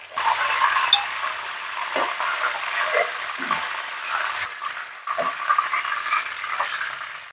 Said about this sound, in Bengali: গ্যাসের ফ্লেমটা এখন হাইতেই করা আছে যাতে চিকেনটা একটু ভালোভাবে ভাজা হয়ে যায়